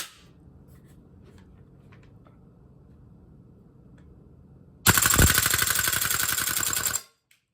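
Gas blowback replica rifle with a Viper Tech M733 A2 upper fires a rapid full-auto burst of about two seconds, loud and close, after a quiet stretch of faint handling noise, then stops abruptly.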